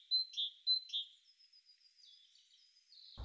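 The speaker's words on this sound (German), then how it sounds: "wenn ein paar Bäume da sind, kann man auch Kohlmeisen hören" A great tit sings in late winter near a few trees, a clear repeated two-note phrase sounding several times in quick succession, then a thin high trailing call, faint and alone against a quiet background.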